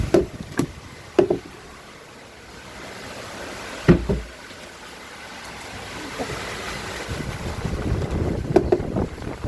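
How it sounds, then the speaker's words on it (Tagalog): Strong wind gusts roar and buffet the microphone, with a few sharp knocks early on and the rushing growing louder toward the end. "lakas ang hangin."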